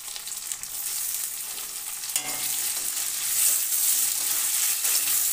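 Chopped tomatoes fry in oil in a pan for a fish curry, giving a steady close sizzle with scraping stir strokes that grows slightly louder toward the end.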